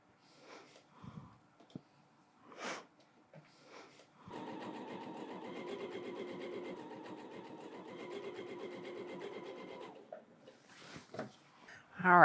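A sewing machine stitches seams of a quilt block in one steady run of about six seconds, close and clear, framed by quiet handling sounds and soft breathing.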